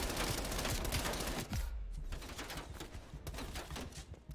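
MP5 submachine gun firing in the Black Ops Cold War video game, dense rapid bursts of automatic gunfire with booming low thuds, continuous and fairly loud with no talk.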